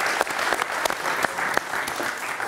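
An audience applauds with dense, even clapping that holds steady throughout, punctuated by a few sharper individual claps standing out from the crowd.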